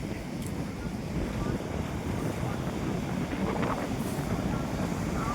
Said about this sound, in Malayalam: ഇപ്പോഴും നല്ല കാറ്റാണ് വീശിക്കൊണ്ടിരിക്കുന്നത്.